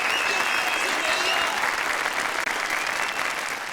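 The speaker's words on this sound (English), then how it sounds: "A round of applause for his courage!" Dense crowd applause in Yakuza 0 fills the space, a steady wash of many hands clapping at once without any pause.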